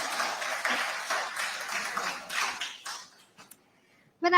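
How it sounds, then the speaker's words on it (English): Audience applause at a live business conclave: a round of clapping for about three seconds that fades into near silence before someone begins speaking. "Big round of applause, ladies and gentlemen."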